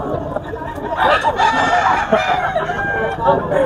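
A mature gray rooster at the Bocaue poultry market crows amid a busy background of clucking fowl and chattering people, the calls rising over the crowd noise in short bursts.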